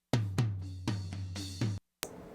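Drum hits with a loud, bright cymbal crash ringing over them, several strikes in quick succession, then a brief cut and one more crash.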